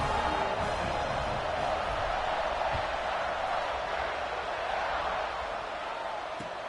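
A large American football stadium crowd roars continuously, a dense and steady wall of cheering voices that stays loud throughout.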